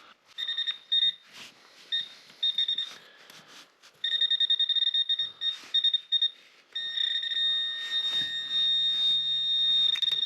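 Repeated electronic beeping from a metal detector over mineralized ground, short bursts and longer sustained tones, steady high-pitched pulses, close by with no talking.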